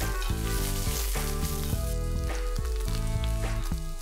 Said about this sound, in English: I'm adding in the onion rings.